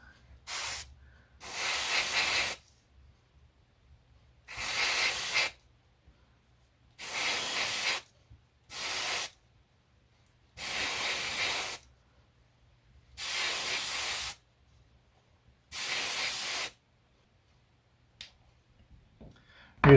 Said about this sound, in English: I just do that just to get a feel for how the airbrush is working.